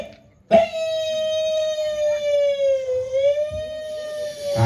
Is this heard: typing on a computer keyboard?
no